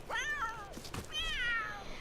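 Two drawn-out cat meows from The Sims 3, each rising then falling, close and clear, separated by a brief pause with light background noise.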